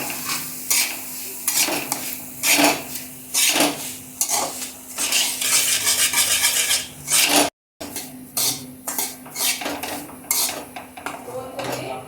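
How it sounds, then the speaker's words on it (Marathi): Semolina roasts in hot ghee in a pan while a metal spoon stirs it, repeated scraping and clinking against the pan over a steady sizzle, close and loud, with a brief break before stirring resumes. "चल आपण आता हा तूप गरम झाले, आता मी शिरा रवा आपण घेऊया भाजून।"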